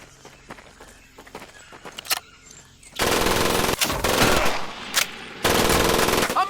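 Machine gun fire in Medal of Honor Pacific Assault: quiet footsteps and scattered shots first, then loud sustained automatic bursts close by, broken by a few short pauses.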